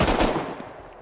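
A rapid burst of automatic gunfire from an AK-style rifle in the Rust video game, loud and close, with no talk during the shots.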